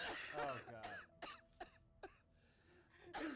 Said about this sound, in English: That was just the voice actor coughing up along.